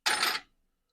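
Metal bolts and washers rummaged by hand while hunting for parts for a rat rod car build: a brief, bright, jingling clatter that lasts under half a second and then falls silent.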